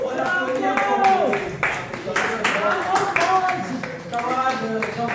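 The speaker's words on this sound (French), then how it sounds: "On applaudit encore." Continued clapping from an audience at a union gathering in Liège, uneven claps mixed with people speaking over them.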